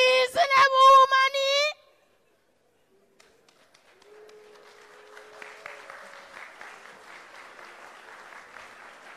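Audience applause at a local governance conference in Jamaica in 2018, a steady broadband patter of many hands clapping that swells in after a short pause and continues to the end, following a brief loud tonal sound at the start.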